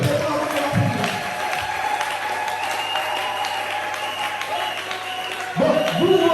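A church congregation at a Sunday service applauds and cheers for the Lord, a sustained wash of clapping with voices over it, and the applause swells again near the end.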